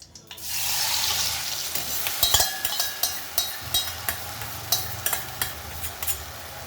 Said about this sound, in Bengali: এই তেলের মধ্যে আমি এই ব্যাটারটা ছেড়ে দেবো, এই গোলাটা ছেড়ে দেবো।